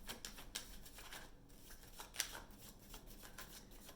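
Tarot cards being shuffled and drawn during a reading: soft riffling and sliding card noises with a few sharper snaps, close and quiet, with no talking.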